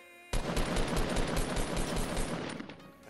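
Rapid burst of automatic gunfire in Fortnite, a dense run of close, loud shots lasting about two and a half seconds before tailing off, no talk.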